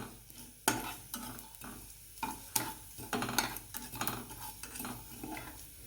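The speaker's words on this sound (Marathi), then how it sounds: "चार वेलदळे घेतलेले आहे पण टाकून घेणार आहोत थोडेसे गरम करून घेणार आहोत" Fennel seeds and cardamom pods are dry-roasted in a hot pan and stirred, giving repeated scraping, rattling strokes and faint sizzling close by, with no talking.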